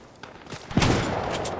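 Video game gunfire crackles in a rapid burst of shots that swells into a sustained volley, fairly close and loud, with no speech.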